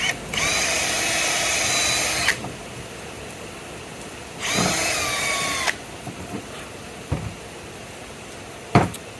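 A power drill with a small 7/64 bit bores a hole in a wooden war club: two whirring bursts of about two seconds and one second, followed by a few sharp knocks and taps.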